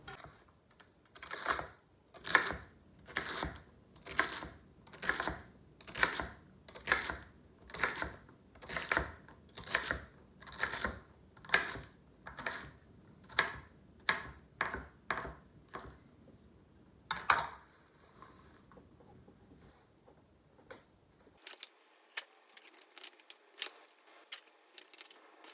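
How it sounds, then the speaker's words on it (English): A knife chops celery and carrots on a board in a steady run of crisp, evenly spaced cuts, fairly close, then a few scattered lighter taps and quiet handling. "So I'm gonna cut these up and cut my carrots up."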